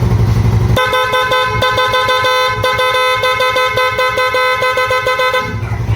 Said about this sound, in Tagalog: Lilipat na yun sa malakas na busina.